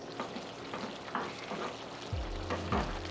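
Cornstarch and vegetable broth blend poured and stirred into a simmering cooking mixture, giving a steady sizzle and frying hiss with soft stirring scrapes and a low bubbling swell near the end.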